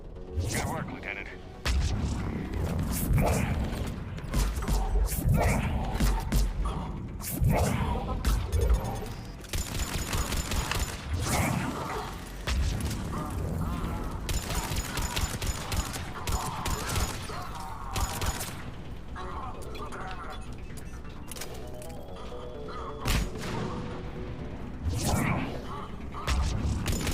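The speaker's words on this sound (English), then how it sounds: "Commander, we're getting a lot of mortar fire." Mortar fire in a Mass Effect 3 battle against Cerberus forces: a dense, continuous barrage of booms and rattling gunfire, with voices talking over the din throughout.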